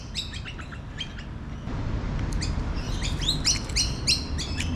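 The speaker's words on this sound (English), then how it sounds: "I've got bloody birds flying over me." Birds chirp and tweet in a park, repeated short bright calls coming in quick bursts over steady low traffic rumble, with the calls growing busier and louder toward the end.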